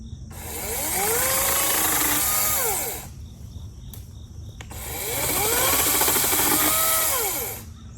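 A chainsaw cuts yard wood for a burn barrel in two sustained bursts of rising and falling engine whine, separated by a quieter idling pause, near and loud with no talking.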